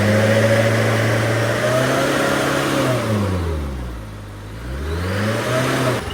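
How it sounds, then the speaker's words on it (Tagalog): A truck engine revs hard, holding a strong growl, then drops off and climbs again. It is loud and close, with no voices over it. "Tapang ng andar ng truck."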